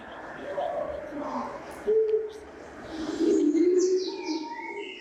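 Birds call and chirp in a natural landscape, a few clear cooing and whistled notes at mid distance, with a voice speaking alongside.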